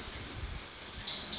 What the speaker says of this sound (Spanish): ahora la verdad que se están escuchando ya pajaritos repasando